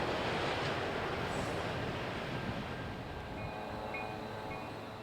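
CSX freight train, a late Y-125 transfer, rolling across the IHB main at Calumet: a loud, steady broadband rumble of passing cars that holds nearly constant throughout, easing slightly toward the end, with no voices.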